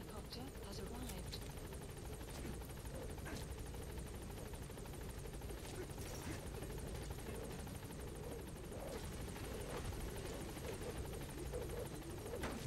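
A support helicopter arriving in Metal Gear Solid V, a steady rotor drone and whine held throughout under a busy mix of game sounds, moderately loud and continuous.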